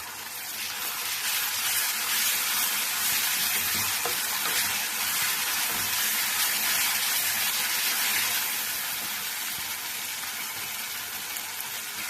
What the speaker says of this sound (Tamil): அப்படியே நல்லா வதக்கணும்.